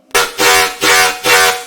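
Synthesized bass patch in a Basement Dwellers style with hard-clip distortion and LFO modulation, three loud buzzing pulses in a steady wobbling rhythm, harsh and close, no voices.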